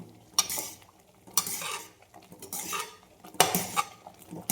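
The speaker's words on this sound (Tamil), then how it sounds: "இப்படியே இதே மாதிரி கிளறிகிட்டே இருக்கணும்" A ladle stirs thick batter in a metal pot, scraping and clinking against the sides in four sharp bursts with quieter swishing between them, close and alone with no talk.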